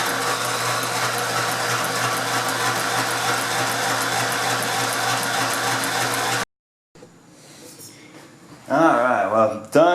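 A sewing machine stitches upholstery pleats, running as a fast, steady mechanical whirr for several seconds before stopping abruptly, followed by quieter handling noise and a voice speaking.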